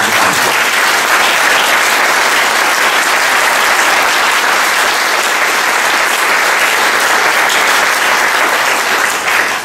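Loud, dense applause from a large crowd at a trade union congress, a continuous roar of clapping from many hands holding steady for nearly ten seconds.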